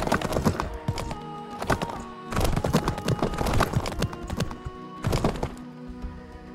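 Horse hooves clip-clop in a video game as a rider travels on horseback, steady bursts of fairly loud rhythmic thuds separated by brief pauses, with no talk.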